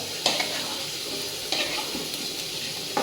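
Chicken with potatoes sautéing in a pan, a steady sizzle broken by a few scraping stirs of a spatula, no talk.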